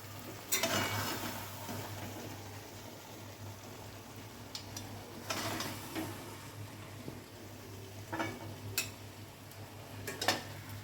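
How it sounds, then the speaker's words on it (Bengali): Mung dal cooked with bottle gourd greens stirred in a pan, a soft steady sizzle with intermittent scraping and clinks of a spoon against the pan, fairly quiet and close. "এবার আমি নাড়িয়ে নিচ্ছি।"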